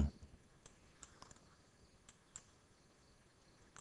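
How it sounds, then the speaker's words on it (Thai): Computer mouse clicks while operating GENESIS32 DataLog software, a few faint, sharp single and double clicks spaced irregularly over quiet room noise. "เราคลิกตรง TWX Viewer นะครับเพื่อเอากราฟมาแสดง"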